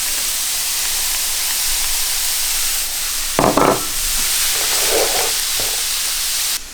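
Grated carrots and raisins sizzle in hot oil in a pot: a steady, bright frying hiss runs throughout, broken by brief clatters of stirring or utensil contact.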